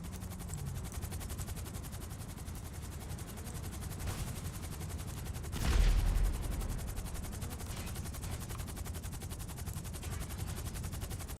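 Rapid gunfire from a Buzzard attack helicopter in GTA Online, a dense steady rattle of shots across the whole stretch with a louder burst and low thump near the middle, no talking.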